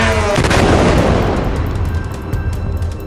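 A missile strike explosion near a high-rise building, a loud heavy blast with a deep rumbling boom that rolls on and slowly fades over a few seconds, with no talk over it.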